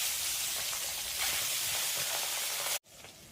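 Tengra fish fry in well-heated oil, a dense, steady sizzle and hiss that runs loud and unbroken, then cuts out abruptly near the end before resuming faintly.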